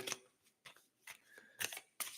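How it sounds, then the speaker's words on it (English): Tarot cards being shuffled by hand, with several brisk riffling and sliding bursts separated by short pauses, close and fairly quiet. "These are so hard to shuffle."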